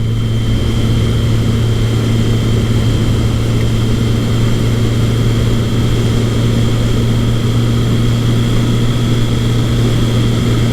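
A smooth 1979 Kawasaki KZ1000 ST motorcycle cruises at steady speed just under 4,000 RPM, giving a loud, unbroken engine drone with a constant low hum and even pitch throughout, alone with no voices.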